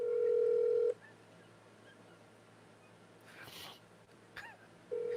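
An outgoing phone call rings through. A steady ringback tone sounds close and clear, falls silent for about four seconds of faint background hiss, then starts again.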